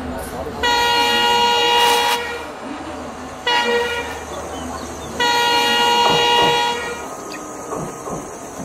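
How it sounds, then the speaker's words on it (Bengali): A train pulls into a station with loud horn blasts in three long sustained toots separated by short gaps, over a rumbling rail background, close and prominent. "কিছুক্ষণ পর ট্রেনটা চলে এলো।"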